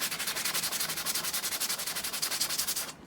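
Sandpaper rubbed briskly over a small model part, a close, fast, even back-and-forth scratching with a regular rhythm of strokes that stops abruptly at the end.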